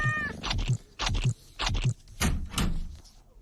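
Cat meow sound effect: a string of about six short, bright meows in quick succession, close and loud, with brief gaps between each.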